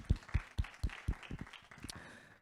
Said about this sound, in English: Let's give another round of applause for those welcoming opening remarks